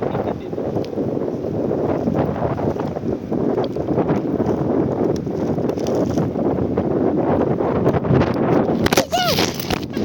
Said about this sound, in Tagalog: So cold. So windy.